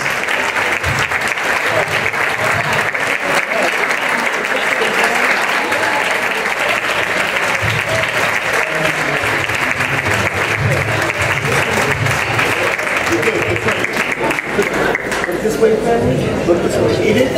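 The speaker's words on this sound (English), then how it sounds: "Give them a round of applause." Sustained applause fills a luncheon hall during an NAACP award ceremony, a dense, loud, even clatter of many hands clapping for over fifteen seconds, with faint crowd chatter beneath and a softer tail at the end.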